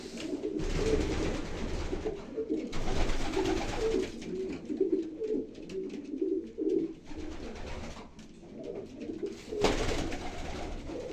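Young pigeons coo steadily inside a crowded loft, soft repeated calls overlapping throughout with occasional rustling and wing noise.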